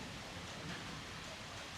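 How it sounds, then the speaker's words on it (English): Steady, dense rain during a storm, an even broadband hiss that holds at a constant level throughout with no talking. "think it's just rain. But yeah, this is the first time filming in a storm."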